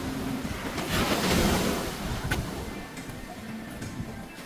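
Surf rolling and washing onto a hotel resort beach in Fujairah, UAE, swelling then easing, mixed with gusty wind buffeting the microphone.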